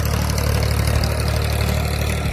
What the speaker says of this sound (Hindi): ट्रैक्टर की आवाज़ भी बड़ी मधुर है और रोटावेटर इसको बोलते हैं